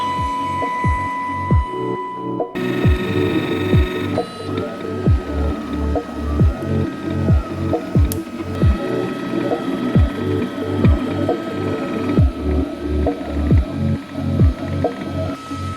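A fab lab printer mechanism runs while printing, giving a loud, close, rhythmic ratcheting of gears and motors in quick repeating clicks over a steady mechanical whine, with no talking.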